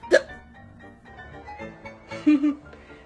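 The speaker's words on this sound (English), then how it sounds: "I have got the hiccups." A cartoon character in a Bambi and Lassie animated movie lets out one sharp, loud hiccup right at the start, followed by softer vocal murmurs and a short voiced sound near the end.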